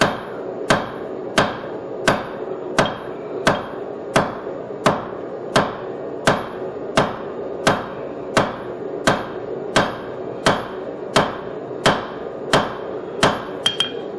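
Hot steel is hammered flat on an anvil while forging a hammer hanger, with a steady series of about twenty sharp, ringing blows at an even pace, close and clear, with no talk.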